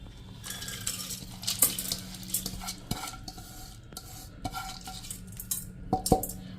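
Washed mixed dals (toor, urad, masoor and chana) go into a metal pressure cooker on the gas, giving scattered clinks, scrapes and rattles against the pot in short irregular bursts, close and fairly quiet.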